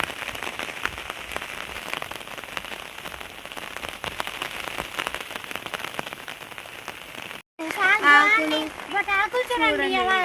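Rain patters steadily on a surface for several seconds, then stops abruptly and a person begins speaking.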